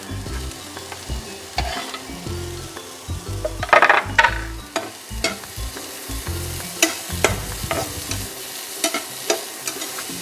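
Mushrooms and soya chunks shallow fry in a pan with steady sizzling, broken by repeated spatula scrapes and clinks against the pan, close and fairly loud with no talking.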